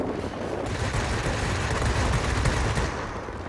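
Spitfire V fighter guns in World of Warplanes, a dense continuous roar of rapid automatic fire with engine rumble, loud and sustained without pause.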